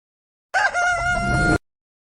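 A single rooster crows in one loud, close cock-a-doodle-doo lasting about a second, cutting off sharply into silence.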